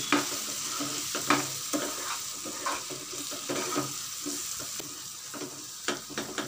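Steady sizzling and frying of masala with garam masala being sautéed in a pan for prawn biryani, with scraping and stirring strokes, close up and fairly quiet, no talking.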